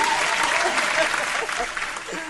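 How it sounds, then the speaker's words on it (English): A studio audience claps enthusiastically during a live talk show, dense and steady applause that fades slightly toward the end. "We got lots of applause for Miss Judy"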